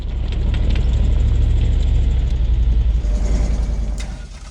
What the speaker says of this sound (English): You can hear the tow truck just rattling itself apart when the chains are spinning.